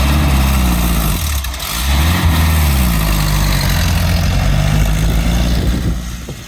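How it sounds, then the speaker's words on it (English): A homebuilt jeep powered by a Volkswagen Beetle engine idles and revs steadily at close range, its low engine drone dipping briefly before rising again, with a clutch noise blended into the running engine. "Clutch makes a noise."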